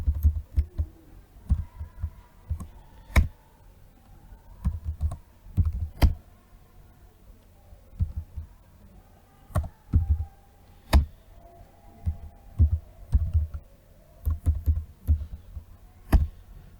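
Typing a command on a computer keyboard during Windows system administration, heard as irregular bursts of close, crisp key taps separated by short pauses over a quiet hum.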